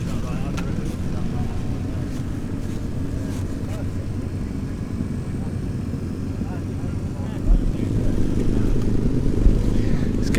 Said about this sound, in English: nice Aprilia RSV4. We got an Austin Racing can on. Sounds fucking awesome.